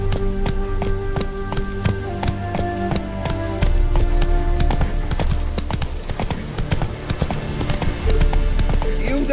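A horse gallops in The Witcher 3: Hearts of Stone, its quick, even clip-clop hoofbeats running throughout over a sustained musical score.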